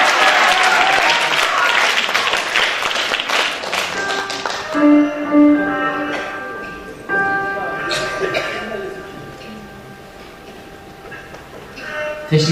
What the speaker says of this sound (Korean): 박수가 약합니다.